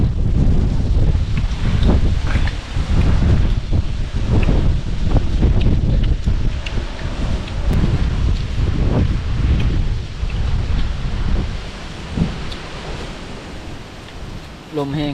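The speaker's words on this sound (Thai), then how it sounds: "ลมพี่น้องเอ้ย" Strong, dry wind blows outdoors and buffets the microphone, giving a loud, continuous rumbling roar with gusts that rise and fall throughout.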